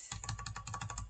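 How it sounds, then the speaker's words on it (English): Computer keyboard keys are tapped in a quick run of about a dozen crisp clicks while using image editing software, close and clear in a quiet room. "I'm using the right bracket on the keyboard to make it larger."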